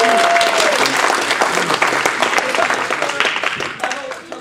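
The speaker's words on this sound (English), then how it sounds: "so we have to clap" An audience at a Toastmasters International Speech Contest claps together in dense, steady applause that is loud at the start and slowly fades. A brief voice is heard under it.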